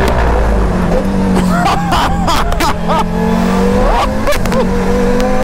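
A car accelerating hard at full throttle, loud engine roar with rising revs right up close, while excited voices shout and talk over it.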